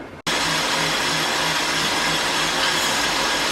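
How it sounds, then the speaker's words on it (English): An electric mixer whips egg whites to stiff peaks in a bowl, a loud steady motor whir that starts abruptly after a brief pause and holds constant close by, with no talking. "I'm going to be whisking those egg whites until they're nice and stiff"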